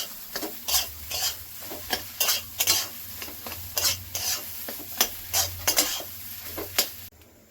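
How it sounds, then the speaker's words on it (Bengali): A spoon stirs spices into fried potatoes in a pan: rhythmic scraping strokes against the metal, roughly one every half second, over a soft steady sizzle, close by with no talking. "মশলাটা আলুর সঙ্গে সুন্দর করে মিশিয়ে নেব।"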